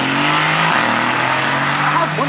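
A car drives past at a South Florida car meet, its engine note loud and close with a rising tone near the end, while people talk over it.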